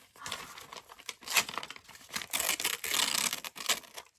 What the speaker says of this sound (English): Should we have a listen to the ripping of the wrapping paper?